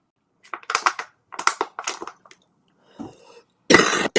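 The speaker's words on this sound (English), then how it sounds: "There's my cough." Several short, sharp coughs from a person come in clusters, near and fairly loud, with brief gaps and a louder burst at the end.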